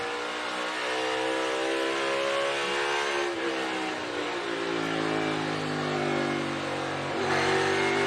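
NASCAR race car engine accelerating during practice at the Toyota Owners 400, a loud continuous roar with rising and falling harmonic pitch sweeps as the car pulls away and comes back onto the throttle, with no speech.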